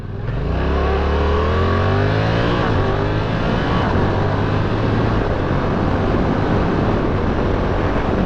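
A Yamaha R7 motorcycle engine revs hard and climbs through gears with the throttle position sensor reading high, a loud, close, continuous roar with rising pitch sweeps and brief dips at each shift.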